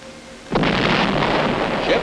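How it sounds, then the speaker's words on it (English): UN fleet warships firing point blank at Wolmi island at dawn on 15 September 1950: a sudden heavy boom about half a second in, then a sustained loud rumbling roar of continuing bombardment. "Ships of the UN fleet fire point blank at the island."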